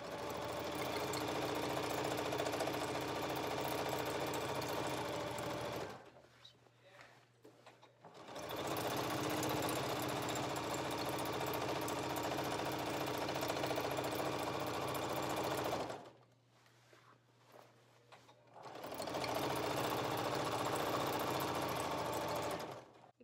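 A sewing machine fitted with a walking foot quilts wavy lines, whirring loudly in three long steady runs separated by short quiet pauses, with no one speaking.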